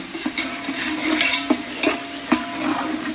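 Chopped onions and tomatoes being stirred in a pan for restaurant-style pav bhaji, steady sizzling frying with repeated scraping strokes of a spatula against the pan, close and clear with no talk.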